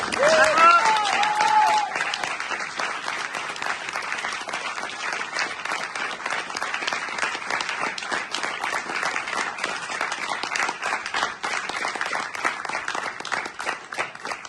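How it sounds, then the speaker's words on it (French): Sustained theatre audience applause at a curtain call after a Kaamelott stage show in Nice, dense and steady for the whole stretch, slightly louder at the start with some cheering mixed in. "Alors on peut l'applaudir."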